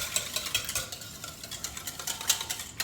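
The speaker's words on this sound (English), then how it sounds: "I'm gonna get my whisk and I'm gonna mix this around." A whisk beats pancake batter made with milk in a bowl, giving quick, uneven metallic ticks and scraping strokes that repeat close by with no talk.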